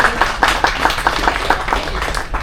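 A cruise group applauds to welcome the host of a film and TV quiz, brisk, loud clapping from a room of people that holds steady for a couple of seconds with no talk over it.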